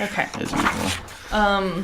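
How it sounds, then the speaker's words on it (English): A dog makes an odd, low whining or groaning noise in the background, a short harmonic sound at the end that follows a few brief spoken words. "Okay, that was a weird sound. That's the dog."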